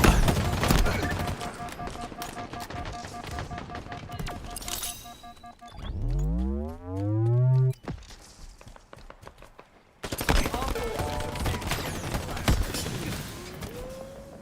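Video-game gunfire in a capture-the-flag match: dense rapid shots and clatter at the start, a sweeping tonal game effect in the middle, then more scattered shots and mechanical clicks after a short silence.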